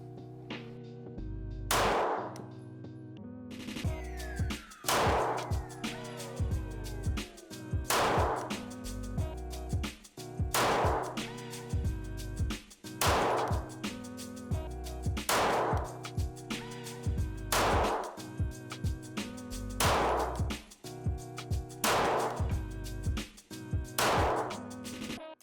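Sig Sauer P226 MK25 pistol fired at a range target 15 metres away, starting in double action: about ten loud, sharp shots spaced roughly two seconds apart, each ringing out with reverb.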